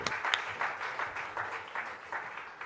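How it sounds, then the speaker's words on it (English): Steady applause from a conference audience, a dense crackle of many hands clapping at moderate volume, slightly distant, with no voices over it. "please give Mr. Taquain another round of applause"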